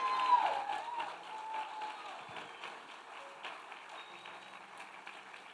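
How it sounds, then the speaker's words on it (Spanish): Church congregation applauding during a sermon about faith and miracles, a faint, fairly distant patter of clapping that starts strongest and slowly tapers off, with no clear speech. "Yo aplaudiría más fuerte,"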